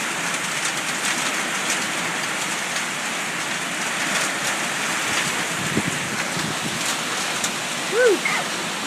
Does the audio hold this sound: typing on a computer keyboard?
no